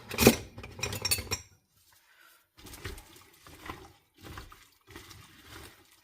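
Ham, green beans and potatoes stirred in a slow cooker, a spoon scraping and clinking against the crock with wet, chunky churning in short bursts separated by pauses.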